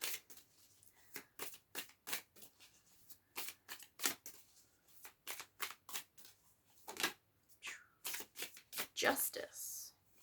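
Tarot cards being shuffled by hand, a steady run of crisp riffling flutters and slaps close up, with a voice occasionally talking over them.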